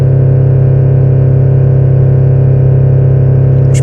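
A Citroën C6 engine idles high and steady on its own during a forced diesel particulate filter regeneration, a loud, constant drone with a sharp click near the end.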